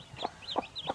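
Native country chickens and chicks on a farm, with three short clucking calls at a steady rhythm, each pairing a lower note with a higher squeak, fairly faint and close.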